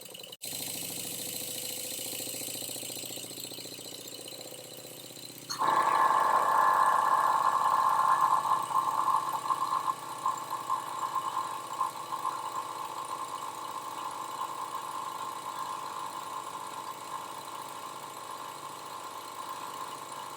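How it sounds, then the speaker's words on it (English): A small Stuart Progress oscillating model steam engine runs on air, first heard as a faint hiss and then as a steady mid-pitched whirring hum with a rapid fine rhythm that continues evenly to the end. "that's better, you can hear the engine"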